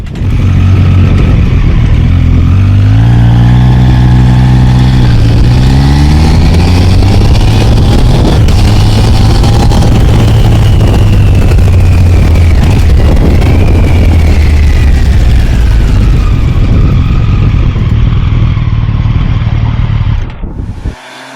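A Triumph Street Triple 765 RS three-cylinder motorcycle accelerates hard, its loud, close engine note climbing through several gear changes, then holding a long rising wail before cutting off abruptly at the end.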